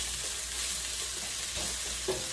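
Chopped onions sautéing in a pan for burrito filling, a steady soft sizzle with occasional stirring scrapes, close and continuous with no talking.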